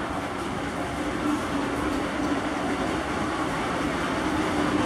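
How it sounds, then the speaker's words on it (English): A Frisco Railroad steam train on a night run rumbles continuously in the distance, a steady low roar and rolling clatter at constant loudness with no voices. "Train rumbling in the distance."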